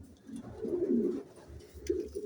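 Pigeons in a newly built loft give soft, close, throaty cooing calls in a couple of rolling phrases, with no talking.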